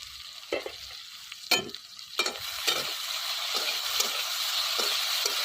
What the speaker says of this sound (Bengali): করলা ভাজাটা দেখি হলো কিনা